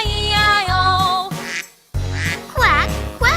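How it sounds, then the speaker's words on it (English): Cartoon duck quacking in a children's nursery rhyme, a run of bright, rhythmic quacks with a brief pause, set against cheerful musical backing. "With a quack quack here and a quack quack there"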